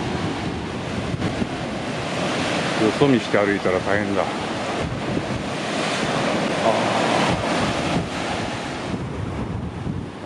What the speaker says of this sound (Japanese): 波がダーンと来たらここで吹き上げる。